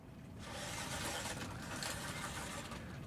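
An FMS 1/12 Jimny RC crawler drives in high gear, its small electric motor and drivetrain giving a steady, faint whirring hum with gravelly rolling texture that holds evenly throughout.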